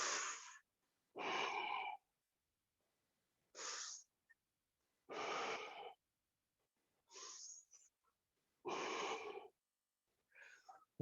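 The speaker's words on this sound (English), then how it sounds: "Before that, we'll just do some breathing." Deep yoga breaths drawn in and let out slowly at a guided session, each long airy inhale and exhale standing alone with quiet gaps between, about seven breaths in a row, close and clear.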